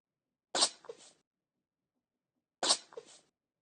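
Two separate sneezes from one person ring out indoors, each a sharp, close burst trailing into a short breathy tail, spaced about two seconds apart in otherwise near silence.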